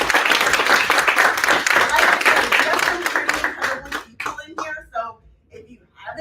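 Audience applause at a gaming pitch event, loud dense clapping from a crowd that thins out into a few scattered claps near the end.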